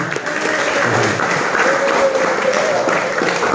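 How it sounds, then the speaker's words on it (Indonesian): Audience at a Ramadan sermon in an Islamic boarding school in Garut clapping together in a loud, sustained round, with a faint voice underneath. "Tuh, tepuk tangan Ciamis."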